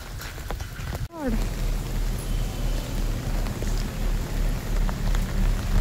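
Heavy monsoon rain pouring steadily on a street on the way to college, a loud continuous hiss with a brief break near the start, and people talking faintly over it.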